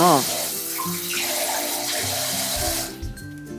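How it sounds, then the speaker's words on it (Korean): Salted ponytail radishes rinsed under a running kitchen tap, water splashing steadily into a sink with shifting tones as the radishes move under the stream, a brief voice at the start. "절여진 총각무는 흐르는 물에 씻어서 물기를 빼주세요."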